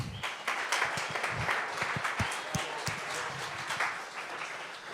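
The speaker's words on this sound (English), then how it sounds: "So round of applause for all of them." An evening startup pitch competition crowd applauds the presenters, with moderately distant, irregular clapping from a modest audience that fades toward the end.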